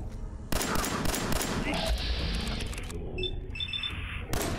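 Gunfire in Fallout 4: a sudden burst of loud, rapid shooting erupts and rattles on steadily for a few seconds, then thins out into scattered reports and tonal game effects before another loud burst near the end.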